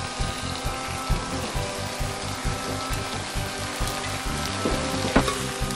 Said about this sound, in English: Give it a jiggle, a good stir.